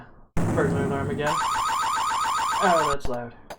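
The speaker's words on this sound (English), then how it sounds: "Yeah, burglar alarm again." A loud, steady electronic burglar alarm blares in the Tex Murphy: Mean Streets video game, a continuous pulsing wail that holds for several seconds before cutting off abruptly.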